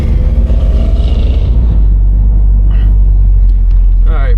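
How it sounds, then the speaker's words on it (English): A 1972 Pontiac LeMans slowing under braking on a test drive, with a loud steady low engine and road rumble throughout and the drone easing off midway; faint speech is mixed in. "Check these brakes."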